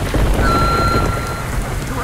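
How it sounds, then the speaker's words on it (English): Rain and thunder from the 2006 video game Vivisector: Beast Within, a dense loud rainfall hiss over a low rolling rumble, with a brief tonal ping partway through. "These rain effects aren't bad."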